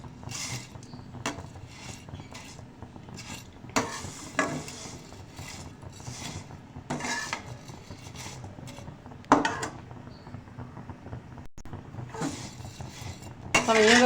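Vermicelli for sweet seviyan roasting dry in a pan over low heat, heard as repeated scraping and clinking of a metal spoon stirring, close and fairly quiet, with no talking.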